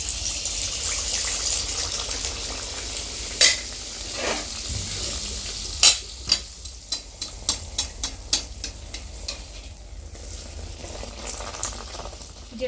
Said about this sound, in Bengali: তেলটা গরম হয়ে গেছে, এবার আমি একটা হাতার সাহায্যে ছেড়ে দেবো